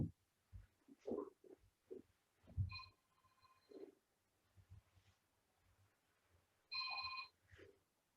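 A telephone rings in a quiet room during an online volcanology lecture, two bursts of electronic trilling, the first around three seconds in and the second near the end, clear and close with faint background noise between.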